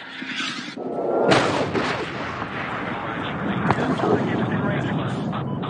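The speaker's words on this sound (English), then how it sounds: "Alex, missile away, Neptune." A missile launch roars into a sustained, dense rumble of explosions and heavy fire from the Medal of Honor (2010) video game, during a Taliban tank assault on Bagram, with radio-style voices talking through the din.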